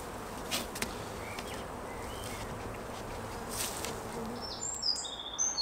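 A honey bee swarm hums steadily inside a nuc box as the colony settles in, a dense continuous buzz with a few individual bees droning closer past the microphone.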